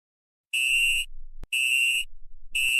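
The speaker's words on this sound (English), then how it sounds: "I think that's the fire alarm going off." A fire alarm in an animated cartoon blares in three loud, piercing electronic bursts of about half a second each, separated by short gaps and a sharp click.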